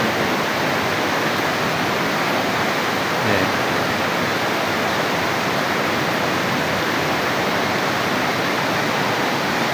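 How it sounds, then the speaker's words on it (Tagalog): Water flows and drips deep inside a dark cave, filling the space with a constant, loud, hissing rush that never lets up. "Yan, tumutulo na yung tubig oh."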